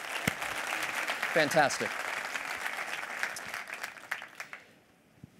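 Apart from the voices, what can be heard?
round of applause for the PHLCVB sponsor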